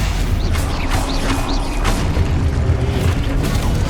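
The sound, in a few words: Stupefy spell cast in the video game Hogwarts Legacy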